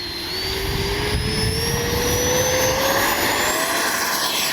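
Freewing A-6 Intruder 80mm electric ducted-fan jet model flying after a crash repair, a steady loud whine that slowly rises in pitch as it passes overhead, with no voices.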